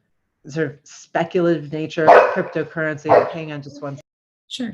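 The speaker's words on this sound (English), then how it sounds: "that's the dog being trapped by the cat that you all saw earlier" A dog barks and yips indoors, a few short bursts mixed in with and partly buried under steady nearby speech.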